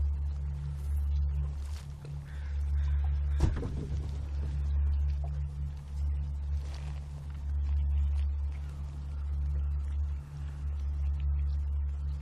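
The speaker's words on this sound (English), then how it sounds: "Hear the hum of a boat that just went by." A low, steady engine hum of a passing boat drones throughout, with faint splashes and water sounds on top and no talking, on a shore at low tide in the Broughtons, British Columbia.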